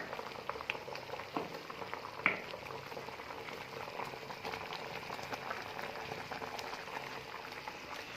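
Plum chutney bubbles steadily in a pot, a continuous soft simmer with small pops and one sharper blip, heard close and alone without any talk.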